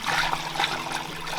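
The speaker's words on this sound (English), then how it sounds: "I'm gonna pour my milk very carefully" Milk poured carefully through a funnel into a half-gallon glass jar, a close, gentle gurgling trickle that runs steadily for over a second without speech.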